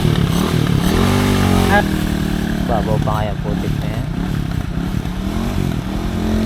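A motorcycle stuck in mud on a rain-soaked rural road revs and strains loudly up close, clutch held in, rising and falling in pitch, while a person talks over it.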